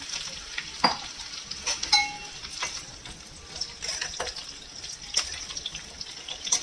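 Raw tomato and bitter gourd are stirred in a hot pan, giving a steady sizzle with repeated scraping strokes from a spatula, close and moderately loud, with no talking.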